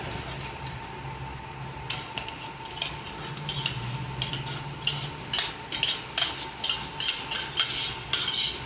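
Spoon stirring cooked rice into bisi bele bath in a pot, with repeated scraping and clinking strokes against metal that grow denser and more rhythmic toward the end, close and moderately quiet, no talking.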